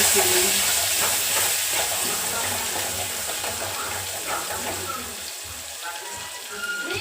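Chopped onion hits hot oil with cumin seeds in a pan and is stirred, giving a loud, steady sizzle that slowly softens, with scraping stir sounds and a voice talking nearby.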